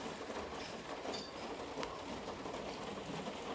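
Steady light rain falls outside a home in the Philippines during a typhoon, an even, continuous hiss and patter that stays soft and unbroken, with no voices.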